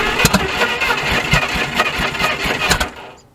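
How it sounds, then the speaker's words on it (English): A carbureted engine cranks, fires and runs roughly, popping back through the carburetor in sharp irregular bursts over a throbbing idle, loud and close, then cutting off abruptly near the end with no talk. "A lot of popping through the carburetor going on."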